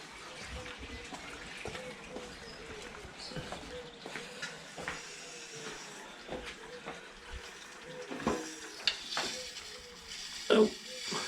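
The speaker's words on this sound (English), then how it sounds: "Water definitely running." A hose runs water into a freshly fibreglassed koi pond, producing a faint, steady hiss and trickle that carries on beneath a man's intermittent speech.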